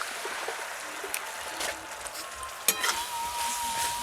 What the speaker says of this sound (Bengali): চিনিটা এখন পুরোপুরি গলে গেছে এবার এর মধ্যে আমি নারকেল কুড়ো দিয়ে দিচ্ছি